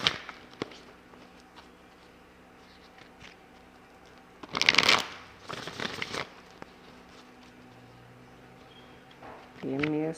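Tarot cards are shuffled by hand during a reading, with quiet riffling and several sharp bursts of card snaps and flutters against a faint background.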